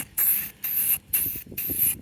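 White spray paint hissing from an aerosol can in four steady bursts of about a third of a second each, separated by short pauses, close and fairly loud, outdoors in wind.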